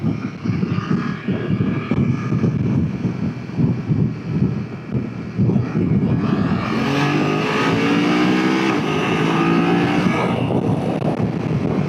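A BMW F900 XR motorcycle engine accelerates to overtake on a road, rising through a loud climbing drone under heavy wind rush, with the pitch sweeping upward in the second half.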